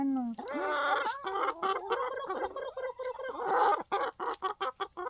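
Backyard chickens cluck and squawk close by in a rapid, busy series of calls, with a steady high hiss in the background.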